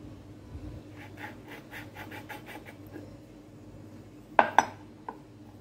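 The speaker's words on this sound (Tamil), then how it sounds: "இது மாதிரி ஒரு கிண்ணம் எடுத்துக்கிட்டு ரவுண்ட் ஷேப்பில் நம்ம கட் பண்ணி எடுத்துக்கலாம்" Bowl pressed onto rolled sesame dough to cut out rounds, with soft scraping and rubbing at first, then two sharp knocks near the end as the bowl meets the board.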